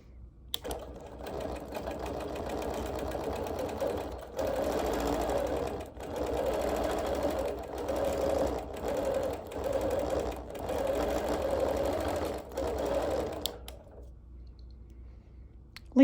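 A sewing machine stitching background quilting on appliqué and embroidery, running in steady rapid bursts with short pauses between passes, close and fairly quiet, then stopping near the end.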